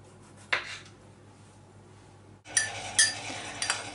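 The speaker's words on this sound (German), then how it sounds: "Und die schneiden wir jetzt in Scheibchen und verteilen die auf dem Teller." Knife and plate sounds while plum slices are cut and laid onto a plate: a single clink, a quiet pause, then a burst of several sharp clinks and scrapes of metal on china, close and moderately loud.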